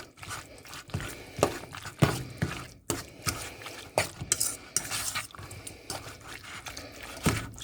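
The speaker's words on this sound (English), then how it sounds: "this we're just going to toss together, but we want to make sure everything gets coated" Food being tossed in barbecue sauce in a bowl makes wet stirring sounds with scattered clinks and scrapes of utensils, close and fairly quiet.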